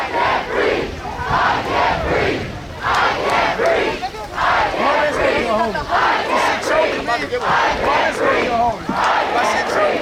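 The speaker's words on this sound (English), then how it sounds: "Someone's leading the chant." A large protest crowd chants loudly in rhythmic waves of shouting voices, repeated phrases rising and falling close by with brief pauses between rounds.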